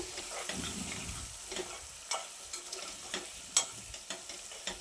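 Ginger and turmeric fry in a pan for a homemade cucumber pickle, a soft, steady sizzle broken by several light scraping knocks of the stirring spoon, one sharper clack near the end, no voices.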